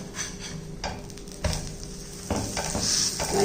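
A breakfast cooks in ghee in a pan and is flipped partway through. A soft, fairly quiet sizzle runs under a few spatula scrapes and knocks, heard up close.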